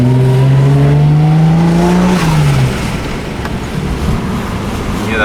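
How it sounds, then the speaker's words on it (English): A car engine revs close by with a turbo spooling up, a loud rising tone that holds and then drops off into a rougher, lower rumble. "Hear that turbo spooling."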